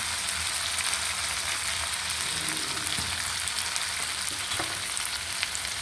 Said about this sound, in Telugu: కరివేపాకు పచ్చిమిరపకాయలు బాగా వేగాయి